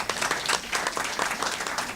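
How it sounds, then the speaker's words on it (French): Audience applause at a francophone intellectuals' conference in Israel, a dense burst of clapping from a seated hall crowd, steady and moderately loud. "Je vous demande de l'applaudir."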